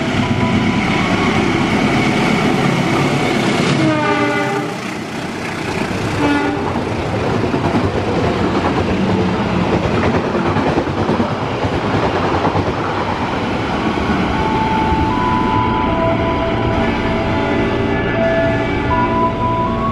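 An Indonesian passenger train with special-livery compartment carriages rolls past close by, a loud continuous roar of wheels and clattering cars, with a horn blast early on.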